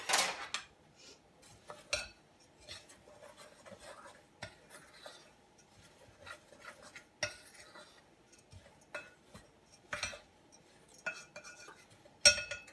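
Baking powder and cinnamon being stirred into dry ingredients in a bowl: sparse clinks and scrapes of a utensil against the dish, quiet between sharper taps.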